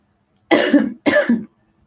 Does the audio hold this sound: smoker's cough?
yes